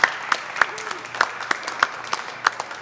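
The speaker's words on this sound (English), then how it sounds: "Let's give one more round of applause to Linda O'Byrne Randall, our Grand Marshal for 2017." Scattered applause at a St. Patrick's Day parade press event honoring the Grand Marshal, a small group clapping with distinct individual claps standing out, fairly close and moderate in volume.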